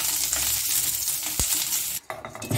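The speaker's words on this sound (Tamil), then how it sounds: "சட்டி சூடான உடனே கொஞ்சமாக எண்ணெய் சேர்த்துட்டு சின்ன வெங்காயம் பூண்டு நல்லா நம்ம வதக்கி" Small shallots and garlic sautéing in a little oil in a hot pan give a loud, dense, continuous sizzle, with one dull thump partway through and a brief dip before the frying noise returns.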